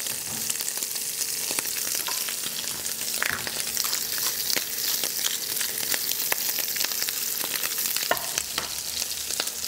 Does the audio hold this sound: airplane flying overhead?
no